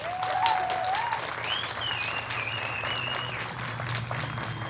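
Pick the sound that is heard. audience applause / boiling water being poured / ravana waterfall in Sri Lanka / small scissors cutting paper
audience applause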